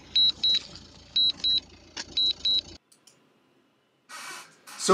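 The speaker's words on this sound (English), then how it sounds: "I guess there's a lot of beeping now" Short electronic warning beeps in pairs from a DJI Mavic Air drone controller during a range test repeat several times, then a brief silence before a burst of noise and clicks at the end.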